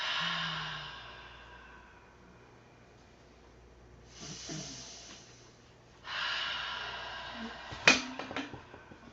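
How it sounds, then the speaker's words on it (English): Slow, deep breaths taken during relaxed yoga on a kitchen counter: a long exhale, then two separate loud airy inhale-exhale cycles, close and alone, ending with a sharp snort-like catch. "I was breathing big breaths so they would be audible"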